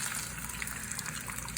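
Fresh eggs fry in pan drippings left from cooking meat in a homestead kitchen, making a steady, close, hissing sizzle with no speech over it.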